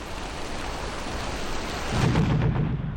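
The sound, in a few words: torrential rain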